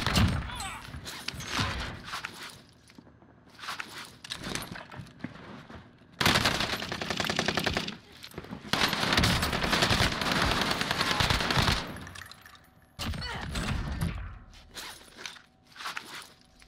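Automatic gunfire in Warzone rattles out in several long, loud bursts with sharp single shots and quieter gaps between them, and footsteps and gear shuffle between volleys.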